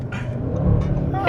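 An Audi RS3 with a custom downpipe downshifts, giving a brief engine rumble and blip from inside the car. It is short and mixed with voices talking.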